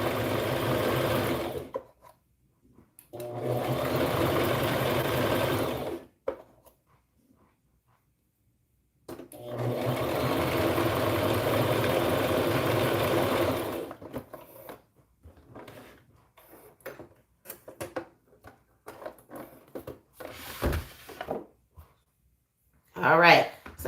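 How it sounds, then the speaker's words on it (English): A home sewing machine runs in two long, steady stitching bursts while seaming around a pair of small preemie shorts, then falls quiet before scattered handling clicks and shuffles, all fairly close. "Just keep sewing till you go all the way around using your 1/4 inch or your 3/8 inch seam"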